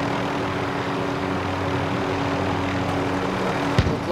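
Helicopter rotors and engine drone steadily in a multiplayer video game flight, a constant close hum with a brief sharp click near the end and no talk over it.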